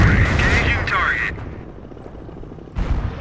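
Tank cannon fire in the Company of Heroes strategy game: one loud blast with a rumbling, fading tail, then a second heavy impact near the end, over a dense battle din with voice chatter at the start.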